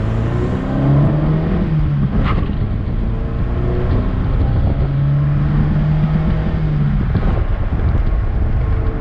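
Chevrolet Chevette with a swapped carburetor driving down a street, heard from inside as a steady low engine drone with shifting harmonic tones as revs change, plus road and wind rumble, loud and continuous, no speech.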